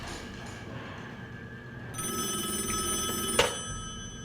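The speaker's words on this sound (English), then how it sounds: "I thought I heard the phone ringing" A telephone bell starts ringing partway through, a bright sustained ring close by, with one sharp louder click near the end.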